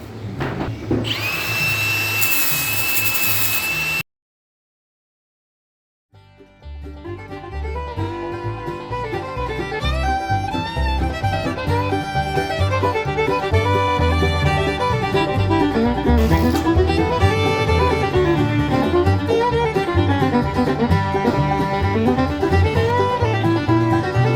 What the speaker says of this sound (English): we just used a belt sander to get this a little bit flat